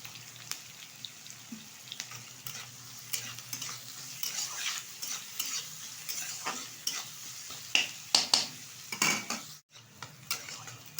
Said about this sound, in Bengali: এখন আমি পেঁয়াজটা একটু নেড়ে চেড়ে নেব